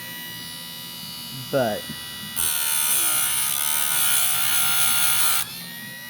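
A chainsaw chain being sharpened by hand, a steady bright rasping that runs for about three seconds after a brief spoken word.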